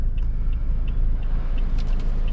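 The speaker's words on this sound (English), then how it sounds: "In the Fortuner, you can very much hear the diesel clatter, even at idle" A Toyota Fortuner GR S diesel engine idles with a constant close, loud low rumble and a faint, regular ticking clatter on top.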